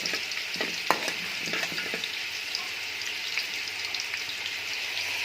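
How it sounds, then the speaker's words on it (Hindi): Bay leaf and whole cumin seeds frying in hot oil, a continuous close crackling sizzle with a few sharp pops and stirring clicks early on. "इसमें साथ ही आ जाएगा ये साबुत ज़ीरा, इसको भी फ्राई कर लेंगे"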